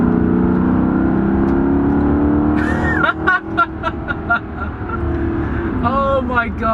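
A Maserati GT drives up a mountain highway near Ojai, its engine droning steadily from inside the cabin. Someone talks over the engine hum midway through.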